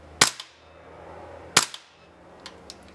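A gas airsoft gun fires in semi-automatic. Two sharp, loud single cracks come about 1.3 seconds apart, each followed by a quick metallic clack of the action. A few faint clicks follow at the end.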